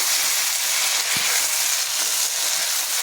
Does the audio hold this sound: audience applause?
no